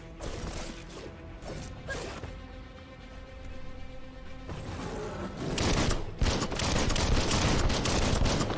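Weapon fire in the Biomutant video game comes as sharp crashing shots over a musical background, a few isolated bangs early and then a louder, denser stretch of repeated blasts toward the end.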